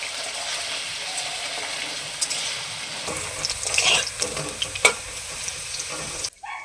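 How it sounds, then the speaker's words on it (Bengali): Potatoes sizzle in a frying pan while being stirred, with a steady frying hiss and intermittent scraping clicks that grow sharper midway, ending abruptly. "এখন আলুগুলোকে দিয়ে দিচ্ছি একটু নাড়াচাড়া করে নেব"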